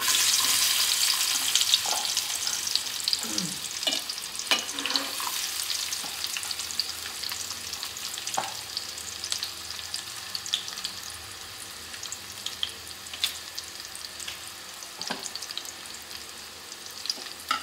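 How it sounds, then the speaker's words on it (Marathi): Chopped onion fries in a spoonful of hot oil in a pot for a spicy black crab dish, giving a steady sizzle with occasional stirring scrapes and clinks, and no voices. "एक कांदा घालते, आता फोडणीला टाकते."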